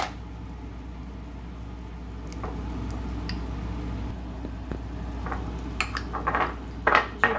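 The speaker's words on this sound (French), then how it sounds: "Et là, je vais essayer de mélanger, écraser un petit peu." Minced meat gratin filling being mixed and mashed in a pan: a steady low background with scattered soft squishes and spoon scrapes that grow into a few sharper clinks of utensil on metal toward the end, no talk.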